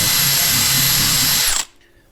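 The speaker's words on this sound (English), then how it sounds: "especially since I'm using a smaller drill bit" A power drill with a small bit bores a hole for a Nissan Xterra door latch step, a loud steady high whine that cuts off abruptly near the end.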